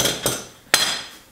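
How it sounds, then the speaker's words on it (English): Two sharp metallic clanks from a tailstock being removed from a wood lathe, a smaller knock followed by a louder bang, each ringing briefly before fading, close by with no talking. "I'm going to take my tailstock and remove it from my lathe"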